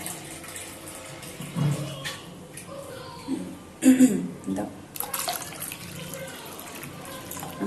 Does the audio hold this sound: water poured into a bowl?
yes